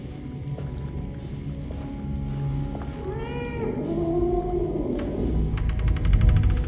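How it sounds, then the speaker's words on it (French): A cat meows in the Alone in the Dark video game, with a few rising and falling calls near the middle over steady ambient game sound and music. "C'est un chat?"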